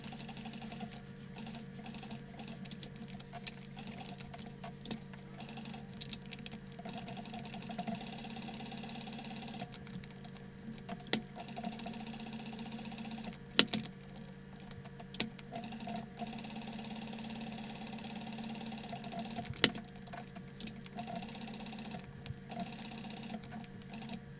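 A sewing machine stitches entredeux onto a collar with a steady, humming mechanical whir and rapid needle rhythm, running continuously at close range with occasional small clicks, no voices over it.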